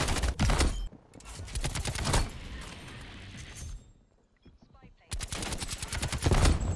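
Krig assault rifle gunfire in Call of Duty Black Ops Cold War: rapid automatic bursts, loud and close, break off into a quieter stretch with faint game noise, then a fresh burst of full-auto fire resumes at the end.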